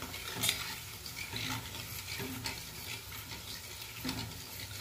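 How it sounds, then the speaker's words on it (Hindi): Gulab jamun sizzling in hot oil as the oil is swirled, a steady bubbling fry with soft stirring scrapes and a faint clink of a pan. "तेल हमारा गर्म हो चुका है, इसके अंदर अब इसको डालेंगे।"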